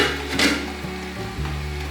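Cabbage, green beans and mushrooms braise under a lid in a pan, giving a steady soft sizzle and bubbling hiss, fairly quiet and even, with a faint lid or utensil knock and no voices.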